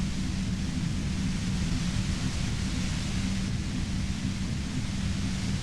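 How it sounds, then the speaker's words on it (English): Static blasts from a pale emitter in Disco Elysium, a dense, loud, unbroken hiss of noise with a heavy low rumble that holds steady throughout. "The explosion of static you're hearing blasted from that pale emitter that Angus mentioned."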